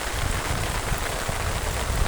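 Heavy morning rain pouring steadily outdoors near a bridge over fast-flowing water, forming a loud, dense, unbroken wash of drops with no voices.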